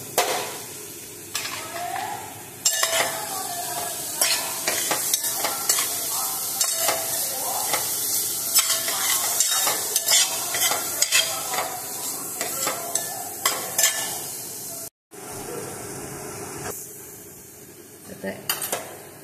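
Grated coconut roasting in a pan for beet kheer, a steady dry sizzle with frequent close scraping and clanking of a spatula against the metal pan, briefly cutting out near the end before resuming more quietly.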